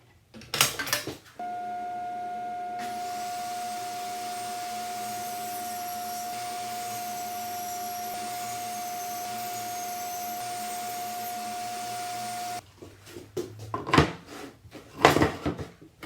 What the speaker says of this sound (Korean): 밑판에 9mm 깊이로 홈을 파내어서 지지판을 고정할 겁니다